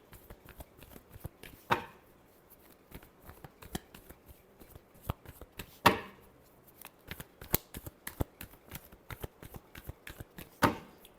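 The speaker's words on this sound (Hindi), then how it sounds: "last shuffle" Playing cards are shuffled close up in a quiet room, quick riffling clicks punctuated by three sharper bursts as the deck is bridged and snapped together.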